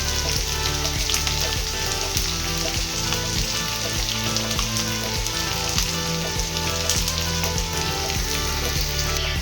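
Onion with chopped garlic frying in a pan, a steady, loud sizzle with dense crackle that runs unbroken for the whole stretch, no voices over it.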